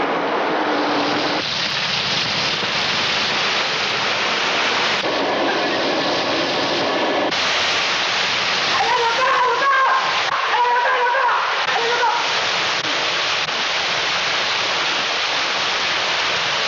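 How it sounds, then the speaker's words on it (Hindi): Heavy rain pours in a steady, dense hiss that fills the scene continuously, loud and close, with faint tonal sounds briefly rising through it partway along. "क्या बारिश है!"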